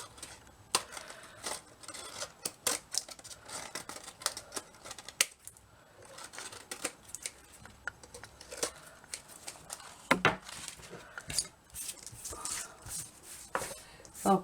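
Scissors trim paper for a paper dress in a quick run of faint, close snips and crinkles, with irregular cutting sounds throughout and no talk.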